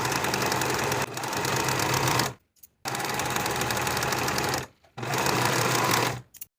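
A sewing machine finishes the outer yoke edges of a half-zip sweatshirt in three fast, steady bursts of close, loud stitching, separated by short pauses.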